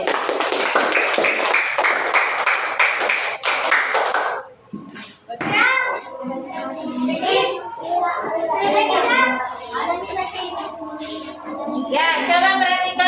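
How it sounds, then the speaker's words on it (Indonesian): A classroom of children applauding a class group's finished work: a burst of steady group clapping that ends after a few seconds, followed by children chattering and an adult speaking. "Tepuk tangan untuk kelompok 1."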